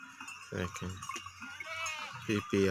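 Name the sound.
goats bleating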